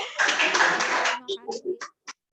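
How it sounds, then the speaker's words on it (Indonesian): A burst of clapping at an Indonesian environmental talk show event, dense for about a second, then thinning to a few scattered claps, with a voice briefly heard. "Tepuk tangan dulu."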